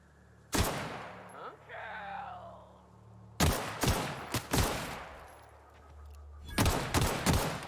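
Explosions and gunfire in The Outer Worlds: a sharp blast, a brief whistling, tonal lull, then clusters of heavy booming impacts that repeat in bursts, loud and close.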